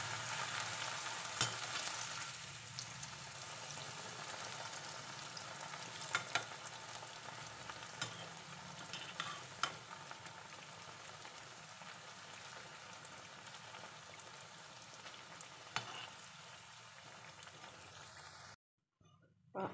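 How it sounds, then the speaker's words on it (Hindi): Bread pieces deep frying in hot oil in a kadhai give off a faint, steady bubbling sizzle with scattered pops, running unbroken for most of the stretch before cutting out near the end. "डीप फ्राई कर लें इसमें।"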